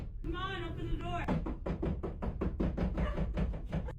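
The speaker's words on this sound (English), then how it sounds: "Loud knocking and banging can be heard on Lucy's bedroom door" Loud, rapid knocking and banging on a bedroom door, a long run of hard thumps following a brief voice calling out at the start.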